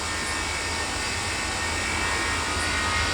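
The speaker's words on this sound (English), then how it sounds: "there's an aircraft taking off, look. American A321 rolling down the runway" An American A321 jet takes off in Tower! Simulator 3 on a wet day, a steady, loud, roaring engine rumble that holds constant throughout with no voices over it.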